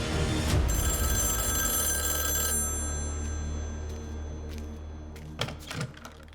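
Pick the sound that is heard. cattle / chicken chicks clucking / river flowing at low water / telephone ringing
telephone ringing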